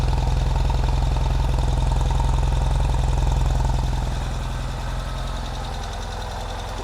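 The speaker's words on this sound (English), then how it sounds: "Very nice sound from the exhaust." A 2022 Ural Gear Up motorcycle exhaust idles with a steady low rumble and even pulsing, close by, easing slightly quieter toward the end.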